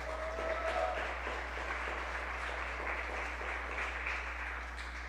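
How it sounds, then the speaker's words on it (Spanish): A church congregation applauds a returning member during a Sunday service, a steady wash of clapping at moderate distance that holds evenly throughout over a low hum. "Vamos a darle un aplauso, por favor."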